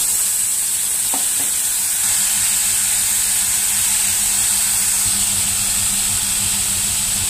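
Nigella seeds and green chilli followed by turmeric and salt crackle in hot oil in a kitchen pan, giving a loud, steady sizzle and hiss that holds throughout with a couple of faint clinks.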